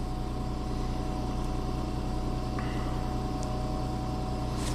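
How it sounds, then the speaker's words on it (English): A Nissan Xterra with a rich-running fault code P0172 idles on its own, a steady low engine hum with a constant drone throughout, no talking. "Now it's idling on its own."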